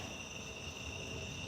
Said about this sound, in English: I can hear the train rolling.